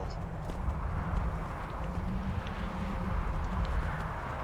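Horse hooves clop in a steady walking rhythm as the horse climbs a mountain in the Skyrim video game, under a constant wash of ambient wind.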